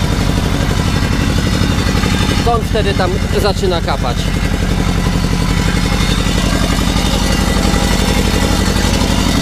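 An Ursus C 325 tractor engine runs loudly and steadily, its low rhythmic chug continuous throughout while someone talks over it nearby.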